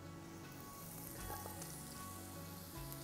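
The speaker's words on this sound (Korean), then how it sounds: "제일 먼저 식용유 살짝 둘러주시고, 그리고 약간의 마늘 먼저, 그리고 단단한 채소 먼저 좀 볶겠습니다" Garlic and hard vegetables such as onion stir-fried in a little cooking oil for pad thai, giving a steady close sizzle with some clatter on top, no talking.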